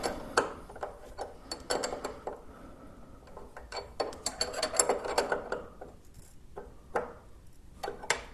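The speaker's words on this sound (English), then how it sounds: "we just use a wrench to tighten these lines down" A wrench tightens the brake lines on a Honda RC51 motorcycle during a Brembo M4 caliper brake upgrade, giving a run of close, sharp metallic clicks and ratcheting ticks in irregular bursts, with no talking.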